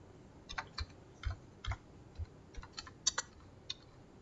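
A search term tapped out on a computer keyboard, a quiet, irregular run of about a dozen light key clicks heard close up with no talking.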